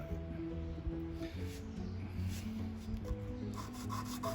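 Sandpaper rubbing on a small N scale model piece, a close, quiet, continuous scraping with short strokes, no talk.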